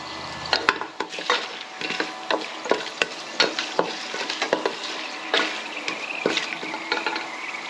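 Whole spices such as cardamom and stone flower sauté in a pan for mutton biryani, giving a steady sizzle broken by repeated scraping and clinking strokes of a spoon stirring, close and fairly loud.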